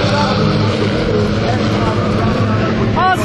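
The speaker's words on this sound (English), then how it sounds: "Revs are up on the grid now. Here they come towards me." Several Formula Vee racing engines drone and rev loudly together on the starting grid at Mondello Park, a dense, sustained roar, with a higher whine rising briefly near the end.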